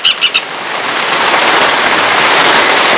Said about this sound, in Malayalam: നല്ല മഴയാണ് വരുന്നത്